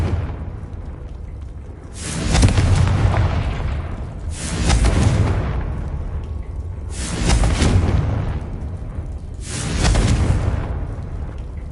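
Four heavy, booming fire-spell explosions from Hogwarts Legacy (Confringo), evenly spaced about two and a half seconds apart, each a loud broadband blast that trails off into rumble.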